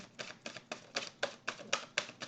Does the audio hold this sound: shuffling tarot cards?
yes